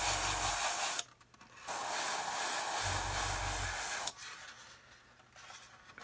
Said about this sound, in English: just lightly fogging it on, not trying to pile it in